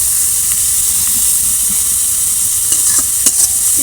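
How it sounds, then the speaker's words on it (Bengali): Shrimp frying in hot oil for a Bengali chorchori, a steady loud sizzle and hiss throughout with a few sharper crackles and pops toward the end. "চিংড়ি মাছগুলো লাল করেই ভেজে নিয়েছি"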